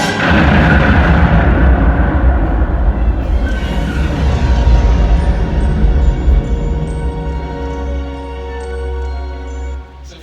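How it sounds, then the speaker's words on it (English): A huge cinematic explosion from the train heist sequence of the Star Wars film Solo, a deep sustained roar with rumbling low end and crackling debris that slowly fades over about ten seconds, loud and with no voices. "An explosion like one we've never seen before at the end of the train heist."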